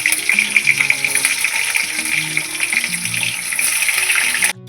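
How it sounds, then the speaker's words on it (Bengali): Potatoes frying in mustard oil in a wok, a loud, dense, continuous sizzle heard close up and steady throughout before it cuts off abruptly at the end. "এই কড়ার মধ্যেই আমি লাল করে আলুগুলো ভেজে নেব"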